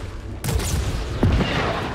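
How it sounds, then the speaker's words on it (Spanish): Secondary fire shot from a weapon in the PS5 game Returnal, two heavy booming blasts about three-quarters of a second apart over a constant dense background of game noise, no voices. "voy a esperar el disparo secundario para que vosotros lo veáis"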